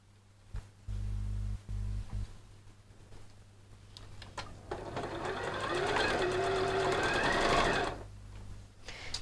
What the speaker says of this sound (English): I'm going to stitch it all the way around.